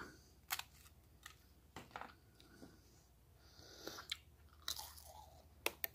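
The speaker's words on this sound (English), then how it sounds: "Try a cracker by itself." Close, quiet crunching and chewing on a cracker from a military ration, irregular crisp bites and mouth sounds with no talking.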